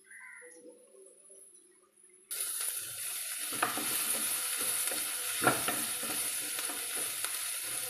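Onions sauté in a hot pan with chili powder and coriander powder, a quiet clatter giving way to a steady bright sizzle with occasional stirring scrapes and clinks, close and alone.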